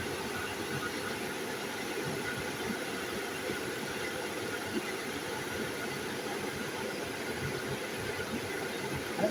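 The engine of a 1986 Dodge Daytona, newly fitted with a replacement cylinder head, idles steadily and faintly with an even, slightly ticking hum and no talk over it.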